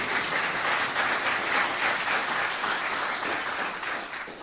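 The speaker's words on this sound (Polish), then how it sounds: "Bohaterowie tegoż wydarzenia mówią, że można klaskać, także przećwiczmy to może" Audience applause at a blues concert during the Katowice Music Colours Festival, steady dense clapping from a crowd that holds loud for about four seconds and then starts to thin out.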